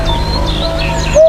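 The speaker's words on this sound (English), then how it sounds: "Top 7. Eurasian Hoopoe." A Eurasian hoopoe calls in a short burst of thin, repeated chirping notes over a steady low background hum, ending on a slightly louder tone.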